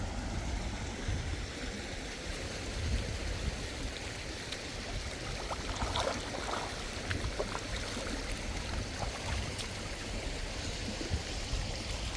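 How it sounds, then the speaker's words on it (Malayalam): Heavy monsoon rainwater rushes over a road near Agumbe, a steady, dense wash of flowing water that fills the whole stretch without pause. "റോട്ടിലൂടെ ഒഴുകണ വെള്ളം നോക്കാണി"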